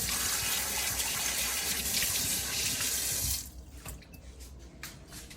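Tap water gushes loudly into a sink while a coffee machine part is rinsed, a strong steady stream that cuts off abruptly after about three seconds, leaving faint drips and small clatters.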